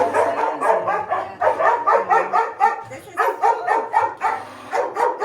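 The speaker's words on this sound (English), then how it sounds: "What are those puppies up to?" Several small dogs yap and bark in rapid, overlapping bursts, high-pitched and close, continuing throughout with little pause.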